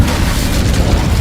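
The Incendio fire spell in Hogwarts Legacy gives a brief, loud, rumbling whoosh of sound that stays thick and low throughout.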